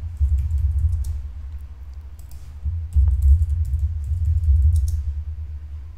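Someone types a password on a computer keyboard: a steady run of close, clicking keystrokes with a brief pause partway through, and no talking.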